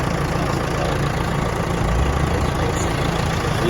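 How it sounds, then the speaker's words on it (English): A concrete truck's engine runs on a residential subdivision road during asphalt removal and replacement work, giving a steady, continuous low rumble at moderate distance with no speech. "Concrete truck was backing up down the road."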